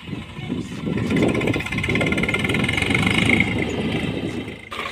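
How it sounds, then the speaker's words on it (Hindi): A tractor engine runs steadily in a field during soybean sowing, a continuous mid-pitched rumble nearby that holds at an even level throughout, with no speech over it. "ट्रैक्टर चलते फटाफट से बोने के लिए"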